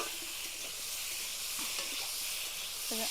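Cucumber with small river fish, salted and dusted with turmeric, fries in a pan with a steady soft steamy hiss and sizzle, a few faint clinks and a brief tonal squeak near the end; no talk.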